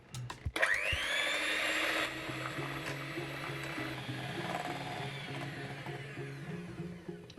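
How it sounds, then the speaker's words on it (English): Electric mixer whisking sugar, eggs and a pinch of salt for a lime cake, starting with a sharp whir and running as a steady close motor hum with a faint rhythmic pulse, alone without talk. "We'll whisk it."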